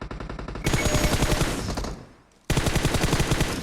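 Rapid automatic gunfire in PUBG Mobile, loud and close, with rhythmic bursts that stop for a moment and then resume at full intensity.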